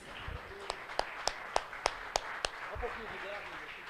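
Church congregation clapping in time at a steady beat of about eight claps, moderately loud, with a voice and room murmur in the background.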